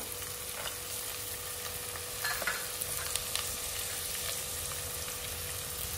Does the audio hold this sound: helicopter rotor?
no